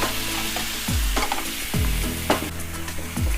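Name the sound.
frying in a pan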